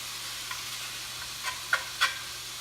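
Ground beef browns in a pan with a soft, steady sizzle, broken by a few brief scraping stirs near the end.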